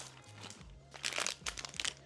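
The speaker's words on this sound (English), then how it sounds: "I'm still chewing." Chewing a crunchy Japanese snack close up, with bursts of crisp crunching that come in uneven clusters over a low background hum and no talking.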